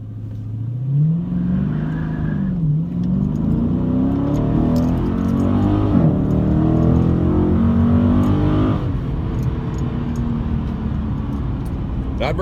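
A 2019 Dodge Challenger Scat Pack in street mode accelerates hard from a rolling start on a street, engine rising through the gears with a loud, near roar and wheel spin, a brief dip at a shift, then sustained pulling.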